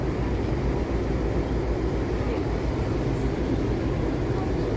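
Metro train at Federal Triangle station in Washington, D.C., giving a steady, loud low rumble and roar that fills the whole stretch without a break.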